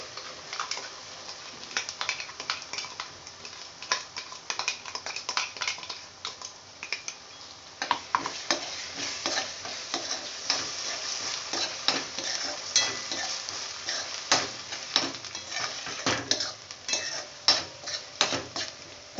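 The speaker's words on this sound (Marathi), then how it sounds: "याच्यामध्ये आपण ही पालकची ग्रेव्ही घालूया." Spinach gravy added to softened onions in a pan for aloo palak and stirred, a steady sizzle with repeated scraping and clinking of the spoon against the pan, close, no talk.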